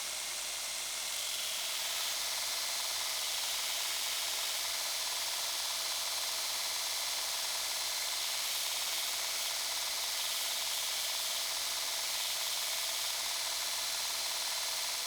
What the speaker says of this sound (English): Next I'll grind the tips, and I'll do that using my new Broadbeck beveling table